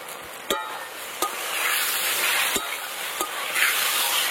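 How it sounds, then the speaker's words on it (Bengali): Boneless chicken pieces fry in a pan with onion, ginger, garlic and tomato, giving a steady close sizzle broken by several sharp utensil clacks against the pan. "এই যে মাংসটা কিন্তু আমি ভালো করে একদম ভেজে নিয়েছি।"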